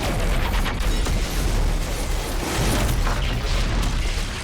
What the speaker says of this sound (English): vanishes in a massive explosion